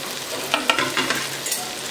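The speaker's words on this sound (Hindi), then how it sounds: "कटहल को डाल देंगे, और अच्छे से गोल्डन ब्राउन होने तक इसको हम तल लेंगे" Jackfruit pieces frying in mustard oil give a bright, close, continuous sizzle, with a few soft stirring knocks and bubbling bursts along the way.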